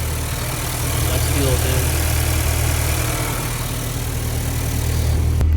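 Honda Accord 2.0T with an RV6 downpipe, PRL front pipe and flex fuel, idling close by with a steady deep rumble that holds evenly throughout.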